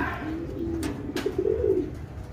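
Small banded pigeons cooing and fluttering as they are released outdoors, a low murmuring coo building over steady background noise with a couple of brief sharp flaps or calls.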